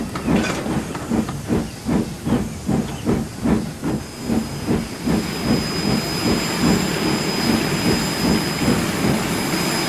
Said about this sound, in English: It's the jet engine!